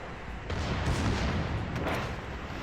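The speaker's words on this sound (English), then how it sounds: "Trying to hit the superstructure with HE shells" Heavy naval gunfire from the battleship Scharnhorst shooting high-explosive shells in World of Warships, a dense sustained roar of booming salvos rumbling loudly throughout with no talk.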